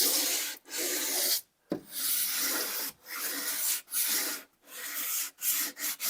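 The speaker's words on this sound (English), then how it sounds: "Once I get the tops of the ties sanded off nice and smooth" Sandpaper rubbing across the tops of wooden railroad ties on a model railway, steady rasping strokes in repeated bursts broken by short pauses, close and alone.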